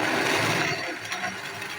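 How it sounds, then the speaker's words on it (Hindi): A grinder blends garlic with oil and salt, producing a steady, loud mechanical whirring grind with a slight drop in pitch and intensity partway through. "इसके बाद इसको हम अच्छे से लहसुन को भी अदरक की तरह ग्राइंड कर लेंगे।"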